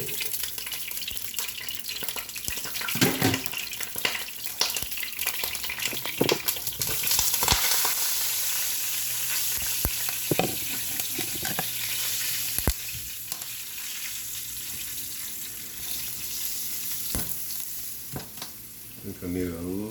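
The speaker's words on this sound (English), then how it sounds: "I'm about to go ahead and throw in the first batch of chicken" A batch of chicken fries in hot oil with a constant loud sizzle, and occasional clinks and stirring noises come through close by.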